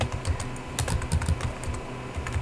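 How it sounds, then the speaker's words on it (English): Steady typing on a computer keyboard while entering code for a React web development tutorial, a quick run of close clicking keystrokes with no voices. "type in something like h3 hello world"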